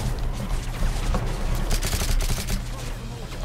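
Mortar explosions and heavy gunfire in the Call of Duty Modern Warfare 3 campaign, a dense continuous barrage of booms and bursts, loud and close throughout.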